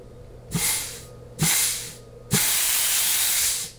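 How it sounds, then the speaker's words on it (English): Compressed air hisses out of a nozzle during an air test of an automatic transmission's forward clutch, in three loud broadband bursts, the last held longest, with no talk. "all the air you're hearing is coming out of the nozzle"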